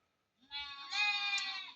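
A single goat bleats at a sheep and livestock market in Barda, one drawn-out, wavering call that swells and then holds, moderately close and alone.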